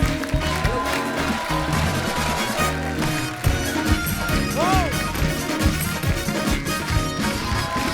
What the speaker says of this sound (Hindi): जोरदार ताली एक बार अहमद भाई, शायरा भाभी और कपिल के लिए